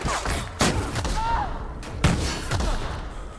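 Grenade launcher blasts in the video game The Outer Worlds: several heavy, booming explosions land about half a second to a second apart, close and loud, over a constant noisy battle backdrop.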